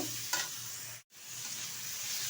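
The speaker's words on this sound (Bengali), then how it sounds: "এখন এটা ভালোভাবে নেড়ে চেড়ে নেব" Dudhman kochu greens are stirred and fried in a pan, giving a soft, steady sizzle with light scraping. The sound cuts out for a split second partway through, then resumes.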